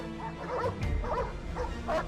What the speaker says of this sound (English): There were dogs barking menacingly